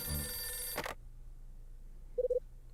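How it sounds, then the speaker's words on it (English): Telephone ringing in the video game Last Window: The Secret of Cape West, a short electronic ring burst heard alone after a sharp game sound, clear and near with no talking. "The phone's ringing."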